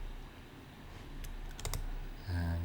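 A few quick taps on a computer keyboard while drafting in AutoCAD, faint clicks clustered together against a low room hum, followed by a steadier tone.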